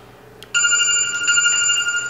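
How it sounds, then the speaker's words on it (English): A phone suddenly bursts into a loud, steady electronic ring that holds for about a second and a half against a quiet background hum. "And then your phone will ring."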